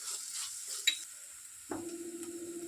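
Ginger garlic paste fries in a pan for an egg curry, a steady sizzle that jumps louder partway through as something is added, with light stirring clatter; no one speaks.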